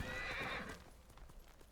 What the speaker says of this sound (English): Horse, spawn, I command you.